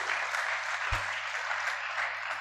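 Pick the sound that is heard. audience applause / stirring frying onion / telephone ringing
audience applause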